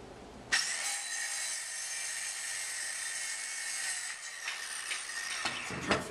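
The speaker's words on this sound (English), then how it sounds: "I'm going to use my trimetric as a saw guide" A hand saw cuts wood along a Tri-Metric saw guide, giving a steady, continuous rasping that starts abruptly and runs close and fairly loud, then gets a little uneven near the end, with no talking.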